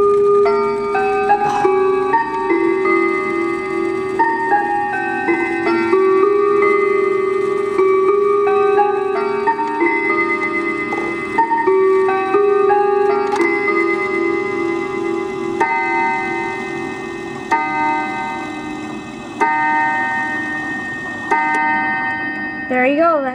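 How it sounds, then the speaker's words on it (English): A 1976 Cuckoo Clock Company mantle clock strikes its hour chime, a series of bright, ringing metallic tones with overlapping sustained harmonics repeating at a steady pace for over twenty seconds, up close. "That arm's gonna do the hour chime."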